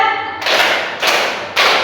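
Three loud claps in an Indonesian classroom clapping count game, spaced in a pattern, each burst broad and sharp, with a tonal voice or note just before the first.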